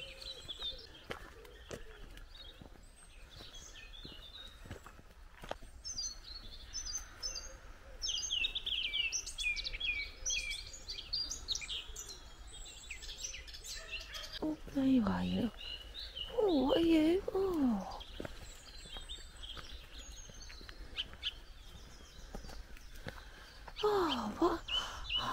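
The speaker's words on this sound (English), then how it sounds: "I just love birds." Birds sing and chirp in a quiet park beside a parking area, with steady high twittering throughout and a few louder, closer calls near the middle and end, while people talk softly in the background.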